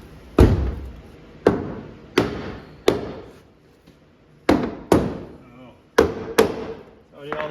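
A hammer strikes front end parts of a Barracuda car during assembly, about eight sharp metallic taps in an irregular rhythm, loud and close, each ringing briefly before the next.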